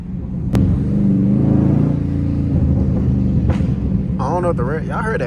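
A tuned Dodge Scat Pack's loud exhaust rumbles while driving in traffic, with a sharp brief pop early on and a second later, engine drone steady throughout and a voice speaking near the end.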